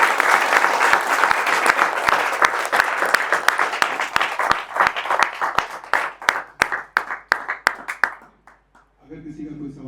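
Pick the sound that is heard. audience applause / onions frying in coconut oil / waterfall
audience applause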